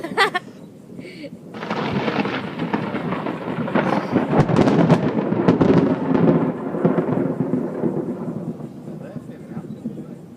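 Loud rolling thunder during a thunderstorm on Hilton Head Island, rumbling steadily for several seconds with sharp cracks near the middle and a long fade, over a bed of rain and faint voices.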